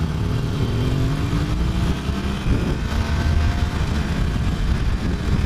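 Harley-Davidson Iron 883 motorcycle cruising on a freeway, a loud steady engine rumble buried in constant heavy wind roar, with no pauses throughout.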